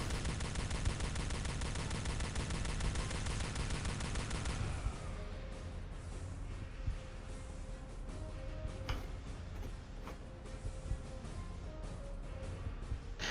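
A weapon fires in Star Trek: Elite Force 2, the enhanced compression rifle: a dense burst of rapid shots for about four seconds, then fainter scattered shots over a steady background.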